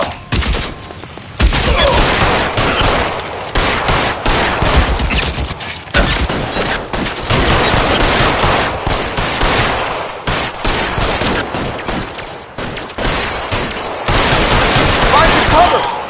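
A sustained, loud gunfight in L.A. Noire, with rapid volleys of gunshots and machine-gun bursts coming in dense waves separated by brief pauses, while voices can be heard underneath.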